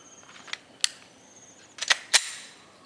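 Several pistol shots at a target on a firing range, fired without using the gun's sights: sharp, fairly distant cracks, two spaced singly and then a quick cluster of three near the end.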